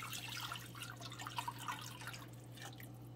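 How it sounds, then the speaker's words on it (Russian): Water runs and splashes into a pot of broth for soup, a close, uneven trickling and dripping over a steady low hum. "И еще добавляю воду."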